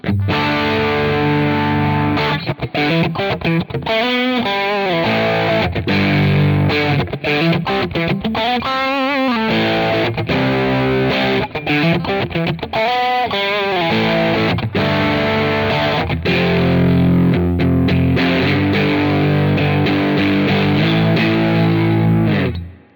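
Distorted electric guitar, a PRS SE Swamp Ash Special with bridge and middle pickups split, playing chords and melodic bends continuously, with a slightly hollow, twangy tone; loud and close, no voices.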